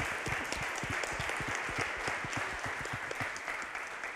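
A room full of people at a university presentation claps steadily, dense and even, with no voices over it.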